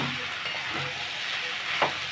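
Puti fish and ivy gourd curry stirred in a pan, giving a steady close sizzle and hiss with a brief scrape of the spoon near the end.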